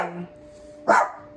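A pet dog indoors lets out a single short, sharp bark at moderate distance, following a brief quiet stretch over a faint steady hum.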